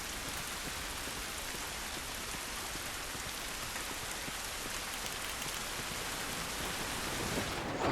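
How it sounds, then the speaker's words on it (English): Steady outdoor rain pours down as a dense, even hiss of drops spattering on surfaces, constant throughout with no voices. "This rain ain't gonna do us any good."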